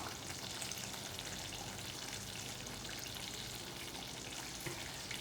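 Curry leaves hitting hot oil in a pot of pirandai (adamant creeper) kuzhambu, giving a steady, dense, close sizzle and crackle that holds level throughout with no talking.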